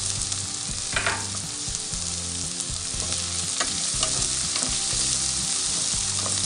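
Sliced onions with curry leaves and green chilies frying in coconut oil in a pan, a close, steady sizzle with crackles and the scrape of stirring, no talking.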